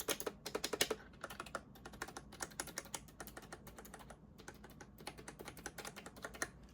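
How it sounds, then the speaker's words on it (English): Fast typing on a creamy-sounding computer keyboard, a steady stream of soft, muted clacks in quick bursts, close and moderately quiet with no talking. "So it's called a creamy keyboard."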